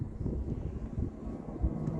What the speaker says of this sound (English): That's a plane that's just took off from Heathrow.